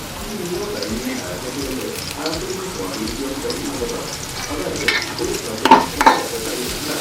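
Curry leaves and a spice base are sautéed in a pan for kappa biriyani, a crackling sizzle with stirring scrapes that grow busier toward the end and a few sharp spoon knocks, under a faint voice.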